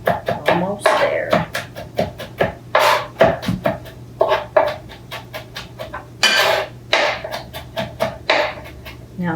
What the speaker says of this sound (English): Stack them all together and run your knife through.